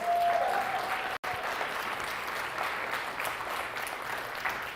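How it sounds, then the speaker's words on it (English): Guests at a fundraiser breakfast applaud the chef, a steady crowd clapping filling the room at moderate level, with a brief tone near the start and a momentary dropout. "let's go ahead and give her a big round of applause"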